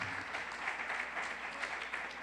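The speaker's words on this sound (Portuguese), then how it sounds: "Vamos aplaudir o Rei?" A church congregation applauding during a worship service, steady dense clapping filling the room at an even level, with no pauses or voices standing out.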